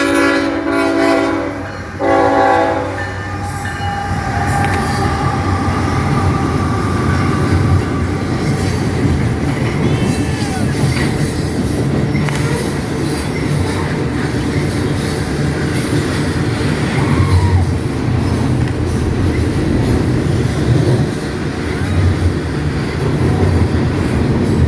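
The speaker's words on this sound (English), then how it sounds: "We got a train coming. Oh my god. Here comes the train." A train passes close by, its horn blaring loudly at the start before the heavy rolling rumble and clatter of railcars continues steadily, with faint wheel squeal.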